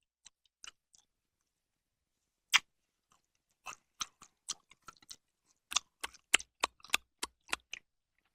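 Someone chews Dots and Sours candy close to the mic, with sparse wet clicks at first, then a quick run of crisp, rhythmic chewing snaps in a quiet room.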